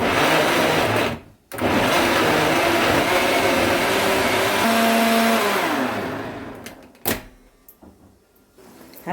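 A kitchen blender purees fresh tomatoes into juice: a short loud whir that stops, then a longer steady motor run that shifts pitch and winds down, followed by quiet and a single click.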